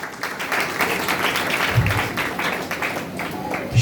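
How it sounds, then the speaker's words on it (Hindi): A church congregation applauding, a steady wash of clapping from many hands, fairly loud and sustained, with voices mixed in. "इन दोनों ग्रुपों के लिए जोरदार तालियां"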